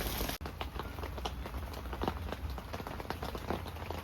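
Warm rain falling at a youth campsite near Seoul, a steady close patter of drops on surfaces with scattered louder splats and a brief knock near the start, no speech.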